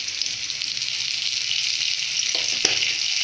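Desi garlic frying lightly in a pan with a pinch of cumin, the start of a cabbage bhaji, makes a steady, even sizzle with a couple of faint taps from stirring and no talking.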